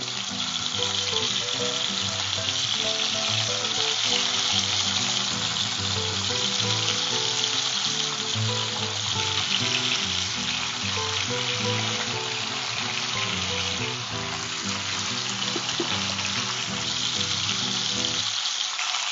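Chicken leg pieces fry in a pan for a chicken roast, sizzling loudly and steadily for the whole stretch with crackling bursts of hot oil and nothing else heard.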